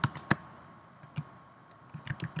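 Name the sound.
typing on a computer keyboard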